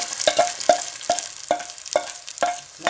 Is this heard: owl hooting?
no